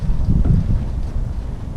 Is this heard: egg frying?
no